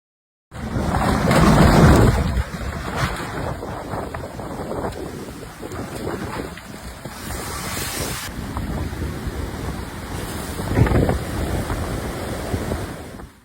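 Violent ocean waves pound the oceanfront at Buxton during a storm, with strong wind buffeting the microphone; a loud surge early on, then continuous roaring surf and gusts, with no voices.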